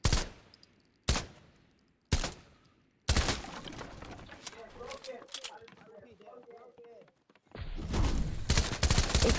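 Rapid gunfire in Fortnite, with sharp single shots followed by a sustained loud crackling burst of automatic fire and a second heavy volley near the end.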